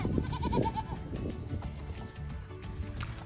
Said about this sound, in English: That goat right there and Brooke, they're a pair.